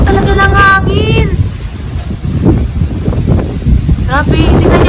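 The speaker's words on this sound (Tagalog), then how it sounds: "Grabe, ang lakas talaga ng hangin." Strong typhoon wind roars loudly and steadily across open ground with trees, a dense broadband rush with gusting swells, while a voice speaks over it at the start and again near the end.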